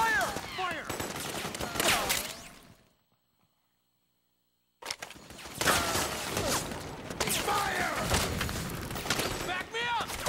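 Bursts of rapid gunfire and automatic weapon fire in Metal Gear Solid 4 ring out loud and close, broken by a sudden two-second silence before the shooting resumes with clattering mechanisms.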